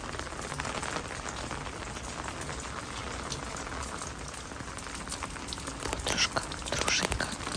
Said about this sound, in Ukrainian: насолоджуйся звуками води